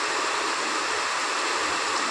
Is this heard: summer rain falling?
yes